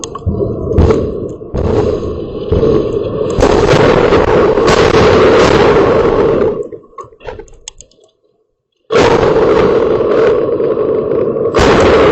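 Hezbollah missiles strike Ma'alot-Tarshiha, Israel, in loud, roaring blasts and heavy rumble. The noise dies away into a brief silence, then bursts back just as loud.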